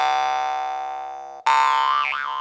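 A Shanqobyz jaw harp twangs loud and close, a sustained buzzing drone that fades slowly. It is then plucked again with a sharp attack, and its overtones sweep up and down in a wah-like shape.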